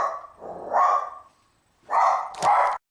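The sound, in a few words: dog barking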